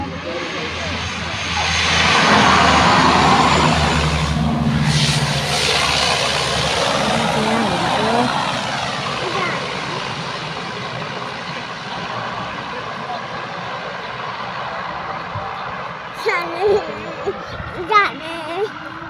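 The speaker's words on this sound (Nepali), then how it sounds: "एयरपोर्टमा प्लेन आइपुग्यो" A loud airplane engine roars nearby at an airport, swelling and then slowly fading as the arriving aircraft passes, with people talking briefly near the end.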